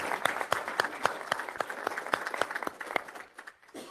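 An audience at an executive committee meeting claps for MANA Resources, a thin, sparse round of individual claps in a steady close rhythm that thins out and stops near the end.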